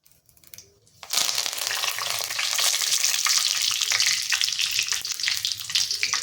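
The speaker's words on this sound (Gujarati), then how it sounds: "અને આપણે અહીંયા મીઠા લીમડાના પાન ઉમેરીશું" Curry leaves and mustard seeds hit hot oil for a tempering while making methi muthiya, bursting into a loud, steady sizzle that holds close and strong after a quiet start.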